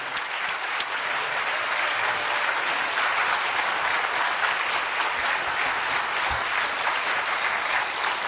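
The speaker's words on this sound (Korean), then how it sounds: "작게 박수로 모시겠습니다." Church congregation gives sustained, even applause, a continuous crackle of many hands that stays level throughout, moderately distant and without any talking on top.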